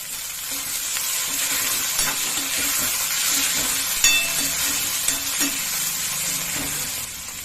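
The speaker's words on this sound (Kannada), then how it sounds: "ಫ್ರೈ ಮಾಡ್ತೀವಿ ಟೊಮೆಟೊ ಹಾಕೊಂಡಿವಿ" Chopped tomato fries in a hot pan for Maggi noodles, a steady dense sizzle and hiss with soft scraping stirs and a few small pops, close and continuous with no talking.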